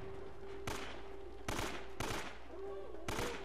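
Shotgun blasts from gunfight combat in Uncharted: Drake's Fortune on PS3, four sharp bursts spaced irregularly over a constant background hum, fairly loud, with no talking.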